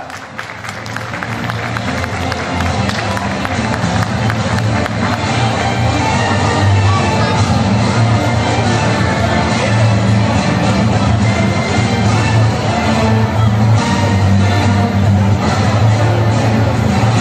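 Sustained applause from a school audience at a high school volleyball tournament award ceremony in Zeytinburnu as the most valuable player walks up, steady dense clapping with crowd murmur throughout.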